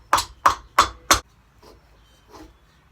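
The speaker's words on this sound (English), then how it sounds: "get a piece of wood and a rubber hammer and tap it in" Four sharp, evenly spaced knocks of a rubber hammer striking a piece of wood to tap a cylinder into a 1971 VW Beetle engine, close and loud, followed by a couple of faint softer taps.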